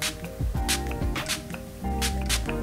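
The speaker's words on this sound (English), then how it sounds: "it's the Stay Matte AF Setting Spray" Lottie London Stay Matte AF setting spray misted from its bottle in a few short, close bursts, each a crisp hiss, with some handling noise between them.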